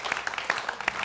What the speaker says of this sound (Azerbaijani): Və alqışlar